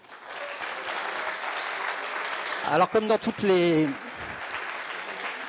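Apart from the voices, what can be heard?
applause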